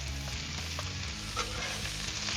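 Peppers and onions sizzle steadily on a Blackstone griddle, a continuous close frying hiss with a low hum running under it for the whole stretch.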